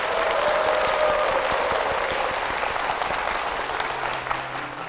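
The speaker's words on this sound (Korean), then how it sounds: "힘찬 박수 부탁드리겠습니다." Church congregation applauding, a steady dense clapping that fills the space and holds loud throughout before easing slightly at the end.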